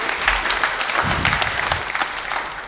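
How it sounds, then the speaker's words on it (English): A chamber audience at a morning parliamentary debate breaks into brief, dense applause, a close, steady patter of clapping lasting a few seconds. "Let's give a round of applause to the Honorable"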